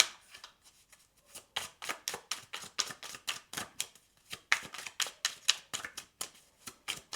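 Tarot cards are shuffled close by in a quiet room, a steady run of short, crisp riffling slaps repeating about every quarter second for several seconds, with no voices.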